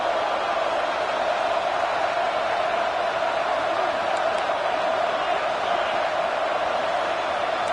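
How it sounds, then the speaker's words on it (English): A college football stadium crowd roars steadily before a big third down, a dense, unbroken wall of cheering that stays loud throughout. "gosh almighty, this crowd is ready"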